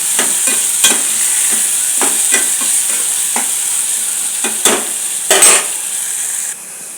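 Tomatoes, onions and green chillies fry with turmeric, coriander powder and fresh coriander for a potato, pea and chicken kurma, giving a loud steady sizzle broken by scraping stirs of a spoon against the pan.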